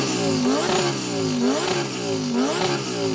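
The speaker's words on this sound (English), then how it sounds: "what we'll do before we race is to rev up our engine" A Lamborghini Huracan's 5.2-litre V10, redlining at 8,500 RPM, is revved hard before a drag race, climbing and falling in three loud, close sweeps with no talking.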